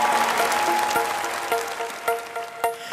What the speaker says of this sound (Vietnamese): một tràng pháo tay cho Phương Nga và Nhật Quân.